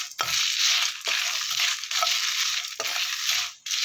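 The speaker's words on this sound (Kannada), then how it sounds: "ಈ ಮಸಾಲೆ ಐಟಮ್ಸ್ ಎಲ್ಲ ಫ್ರೈ ಮಾಡ್ಕೊಳ್ಳೋಣ. ಮೀಡಿಯಮ್ ಫ್ಲೇಮಲ್ಲೇ ಫ್ರೈ ಮಾಡ್ಕೊಳ್ಳಿ" Crackling sizzle of whole spices dry-frying in a pan over medium flame, broken by a few short pauses, with scraping stirs between bursts; loud and close, no talking.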